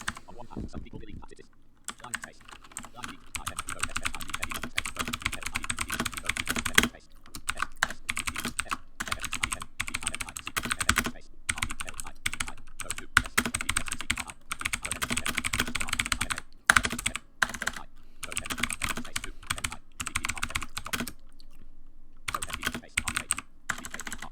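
Someone types on a Mac Pro computer keyboard in bursts of rapid clicking keystrokes with brief pauses, fairly close and steady throughout, with occasional faint speech beneath.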